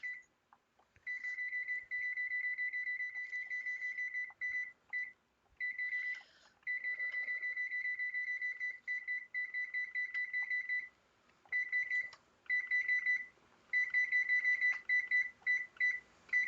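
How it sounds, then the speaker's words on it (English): A kitchen timer beeps in long runs of rapid, shrill electronic tones, broken by brief pauses, in a home kitchen while meatloaf bakes; no talking. "And I'm going to set my timer here."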